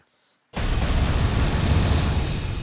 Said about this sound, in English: Bunch of small explosions around you